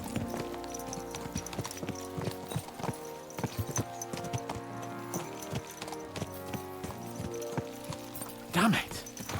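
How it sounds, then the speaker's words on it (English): Horses' hooves clip-clop in a steady walking rhythm in the medieval game Kingdom Come: Deliverance 2, layered over music and voices, with a brief whinny close to the end. "Let's really spur these horses on, eh?"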